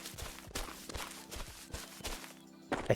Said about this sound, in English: I knew I heard a footstep.